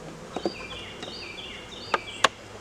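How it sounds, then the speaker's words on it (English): Honey bees around a hive box during a brood box swap give a thin, faint buzz, with a few sharp clicks and knocks from handling the wooden frames standing out close by. "There's only a small cluster of bees right there."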